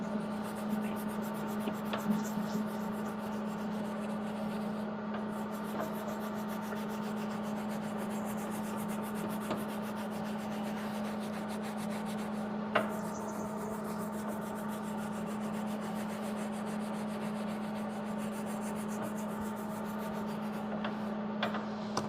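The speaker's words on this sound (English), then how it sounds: "on that shaft, let me at least scuff it up a little bit" A rusty metal shaft from a homemade trailer jack drill adapter is scuffed by hand in a continuous, even rubbing that holds steady for over twenty seconds, with a constant low hum underneath.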